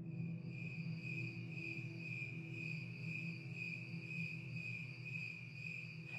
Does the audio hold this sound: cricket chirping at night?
yes